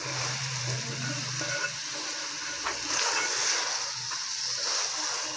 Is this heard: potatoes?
yes